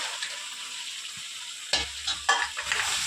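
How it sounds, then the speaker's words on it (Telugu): Chicken pieces hit a hot kadai of softened tomato masala and sizzle loudly, preceded by steady frying hiss and followed by a few sharp stirring scrapes; close and continuous, no voices. "ఇప్పుడు మనం చికెన్ వేసేసుకుందాము"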